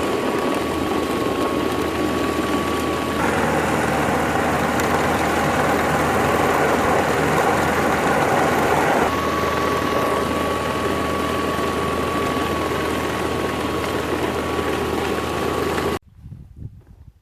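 A gold mining dry washer runs with its engine droning loud and steady, material flowing over the riffles with a constant rushing rumble, before cutting off abruptly near the end.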